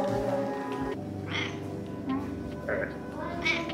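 A few soft, short cat meows spaced out over a quiet background, with a person talking nearby.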